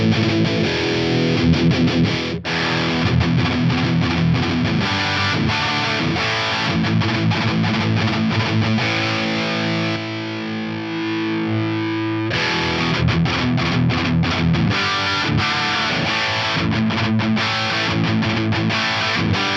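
Heavily distorted electric guitar chords through Synergy Vai and Ecstacy amp preamp modules ring out loud and thick, with a brief sustained passage midway before the chugging resumes.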